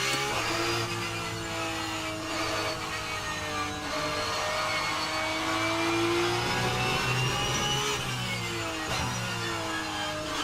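A Porsche Cup car's engine in a racing game drones steadily near and loud, its pitch rising and falling through revs and shifts with no pause.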